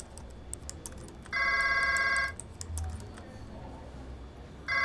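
A desk telephone rings once in a busy newsroom, a loud electronic trill lasting about a second, with faint keyboard typing and office clatter around it and the next ring just beginning.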